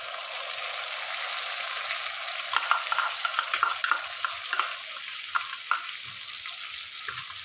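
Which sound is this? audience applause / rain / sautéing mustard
sautéing mustard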